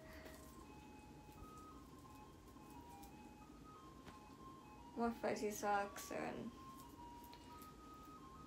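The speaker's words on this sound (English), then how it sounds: "Ice cream truck going by." An ice cream truck passes by outside, its jingle melody carrying faintly from a distance as a steady tune beneath a person talking indoors nearby.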